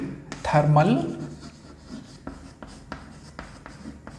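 Writing on a classroom board during a Class 10 chemistry lesson, with a brief voice at the start followed by a series of scratchy, rubbing strokes that are close and clearly audible.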